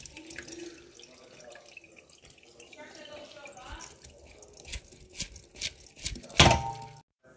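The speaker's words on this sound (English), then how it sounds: "So for my sesame, I'm just going to strain it." Water trickles and drips as soaked sesame seeds are strained in a kitchen, a soft running patter that ends in a louder splash and clunk, with a voice talking over it.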